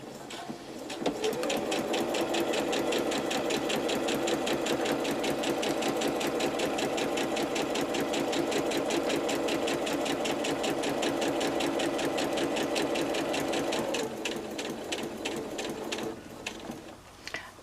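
A sewing machine at a short stitch length runs a continuous line of stitching through paper-pieced fabric, a rapid, steady mechanical chatter heard up close for about thirteen seconds before it slows and stops.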